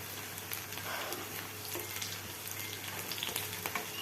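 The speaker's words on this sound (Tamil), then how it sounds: "இது நல்லா வதங்கட்டும்." Green and dried chillies sauté in a pan for tomato chutney, giving a soft, steady sizzle with occasional light stirring scrapes, fairly quiet and without voices.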